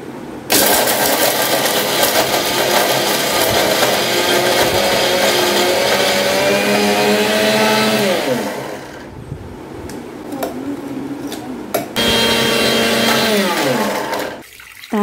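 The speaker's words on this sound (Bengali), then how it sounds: "আমি মিক্সিতে দিয়ে এগুলো একটুখানি ডাস্ট" A kitchen mixer grinder whirs loudly while grinding roasted besan (gram flour) into powder for besan laddoo, running steadily for about eight seconds, then in shorter bursts that stop and restart before cutting out near the end.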